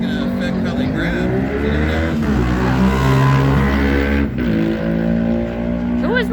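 Street drag race cars launch and accelerate hard on Route 66 in Kingman, Arizona, a three-lane race, with rising, layered engine roars close by and a possible tire squeal, while a crowd talks and shouts underneath.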